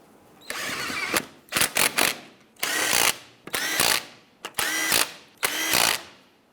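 A ratchet snugs down the lug nuts on a 1995-2001 Ford Explorer wheel, several quick clicking bursts separated by short pauses, close and clear.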